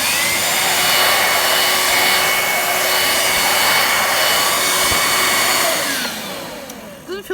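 A Karcher K25e handheld bagless vacuum cleaner runs with a loud, steady high-pitched whine close by, then winds down near the end as the motor stops.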